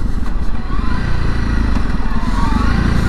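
A 2021 Honda CRF300 Rally single-cylinder motorcycle engine braking, a steady close low rumble and throb that holds at a loud, even level throughout with no talk.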